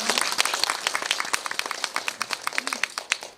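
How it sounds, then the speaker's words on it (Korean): Audience clapping after a film screening Q&A in a hall, dense crisp applause of many hands sustained throughout, moderately loud with no voices over it. "박수 한번 부탁드릴게요"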